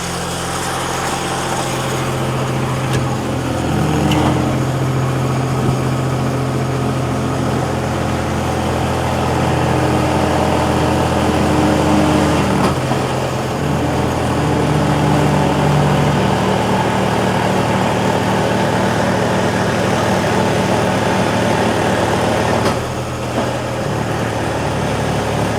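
A diesel engine on a hot water jetter trailer runs steadily at low revs, producing a loud, continuous droning rumble close by with slight shifts in pitch and no voices.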